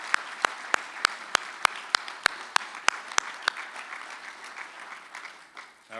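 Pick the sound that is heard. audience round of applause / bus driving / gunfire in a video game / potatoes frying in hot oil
audience round of applause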